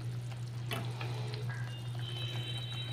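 Masala spice paste fries in oil in a pan, making a steady, close sizzle and bubbling with soft stirring scrapes and a faint hum underneath.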